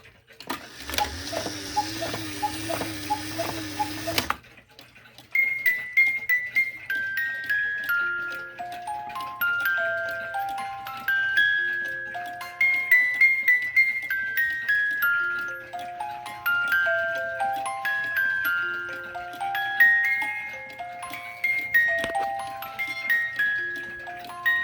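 A Poppo musical cuckoo clock plays a bright, plinking mechanical tune of stepped notes over a steady tick, after a brief louder burst at the start, heard close and alone without voices.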